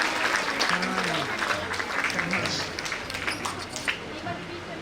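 Lively applause from an audience at an International Women's Day event, greeting a guest speaker who is a music professor, steady clapping with faint voices murmuring underneath.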